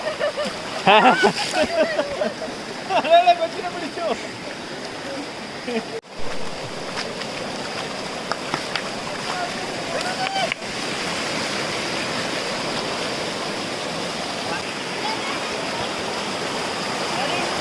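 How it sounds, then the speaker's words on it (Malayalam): Forest stream water at Thenmala flows and splashes steadily, a constant rushing wash that runs through the whole stretch, with brief louder splashes and some indistinct voices early on before the flow carries on alone. "നിങ്ങൾക്ക് വെള്ളത്തിൻ്റെ സൗണ്ടൊക്കെ കേൾക്കാം."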